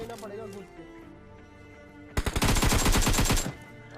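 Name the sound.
gunfire in PUBG Mobile video game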